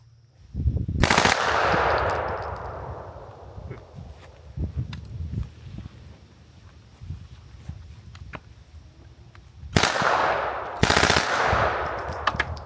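Muffled, heavy gunshots through a C4 Armory BBC silencer ring out in bursts, the first and last pairs loudest, with rustling and shuffling handling noise in between.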